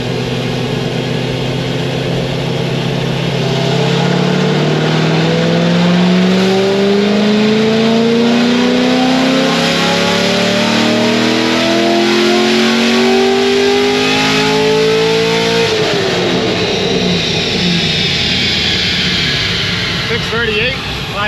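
A stage 3 C6 Corvette Z06 engine pulls hard on a dyno, its loud rising rev climbing steadily for about fifteen seconds before shifting and dropping back. Voices talk faintly over the engine noise.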